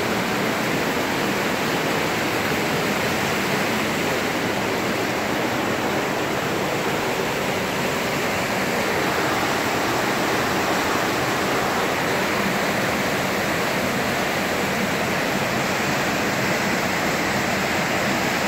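An underground river rushes loudly through a cave, a steady, unbroken roar of moving water filling the whole stretch with no voices.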